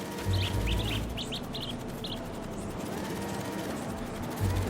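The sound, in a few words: bird calling in Marvel's Spider-Man 2 video game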